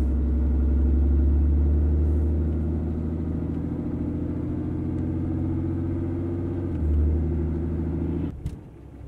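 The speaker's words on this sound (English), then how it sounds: "I'm honestly quite curious as to what this truck is going to sound with a full exhaust, because obviously we're doing straight pipe" A Cummins diesel truck with a straight pipe exhaust idles and rumbles steadily up close, a deep, loud drone with slight shifts in pitch that stops abruptly near the end, with no talk.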